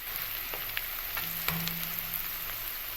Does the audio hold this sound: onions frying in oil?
yes